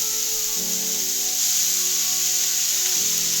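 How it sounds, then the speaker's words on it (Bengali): Boiled chowmein noodles dropped into a hot pan with vegetables, a steady close sizzle and hiss of stir-frying with faint scraping, no voices. "এবারে দিয়ে দেবো সেদ্ধ করে রাখা নুডলস বা চাউমিন"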